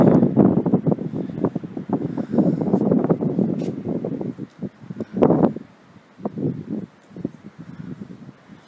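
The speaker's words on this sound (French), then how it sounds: "Il y a beaucoup de vent aujourd'hui." Strong wind gusts buffet the microphone outdoors at a red clay harvesting site in Morocco, a steady roaring rush with louder bursts that dips briefly near the end.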